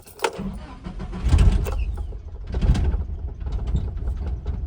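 A 4x4 Nissan Hardbody pickup cranks and starts, a rough rumbling turnover that catches twice before settling into a running engine, heard close by in a quiet setting.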